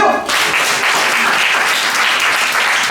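Audience applause at a youth group recitation contest awards ceremony, a dense burst of clapping that starts abruptly and holds steady and loud for about three seconds.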